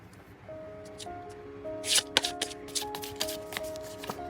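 Tarot cards are handled close up, with soft flicks leading into a burst of crisp riffling and snapping as they are shuffled and drawn, over faint background music.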